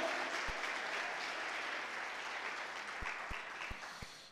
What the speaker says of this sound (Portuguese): Aplauda com alegria, com entusiasmo, aleluia!